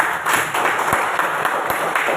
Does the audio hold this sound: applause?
yes